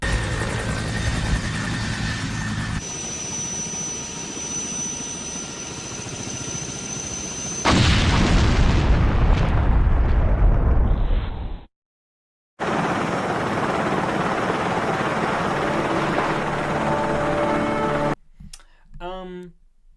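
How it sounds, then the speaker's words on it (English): Helicopter rotor drone and a roaring mansion explosion in a Resident Evil game scene, with a loud sustained blast, a brief silence, then further steady rumbling and clicking. "The Alpha team escapes on the helicopter and makes it back to Raccoon City as the mansion blows up behind them."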